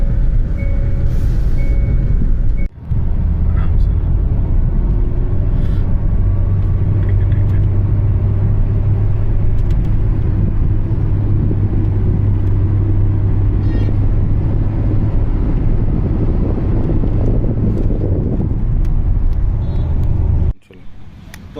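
A Hyundai Creta S+ Knight Edition diesel car driving, with a loud, steady engine and road rumble filling the cabin, then a brief drop near the end.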